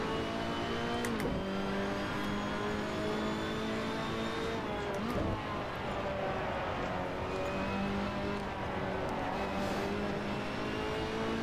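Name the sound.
Ferrari P4/5 Competizione race car engine at Mugello, video game Assetto Corsa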